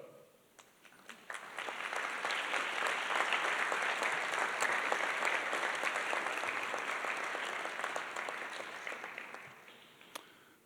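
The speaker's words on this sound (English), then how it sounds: "turn around, and applaud your families as well" Architecture school convocation students turn and applaud their families, a large hall of clapping that swells in, holds steady and full for several seconds, then fades with a few scattered claps.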